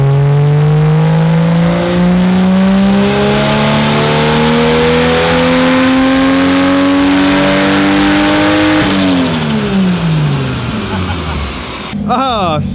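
A turbocharged Toyota Supra engine fitted with an eBay turbo roars loudly on a Mustang dyno, its pitch climbing steadily through a long pull before the revs drop off and settle near the end.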